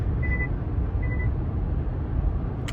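Two short electronic warning beeps sound from a 2020 Kia Optima's driver-assist system over a loud, steady rumble of road and engine noise inside the moving car.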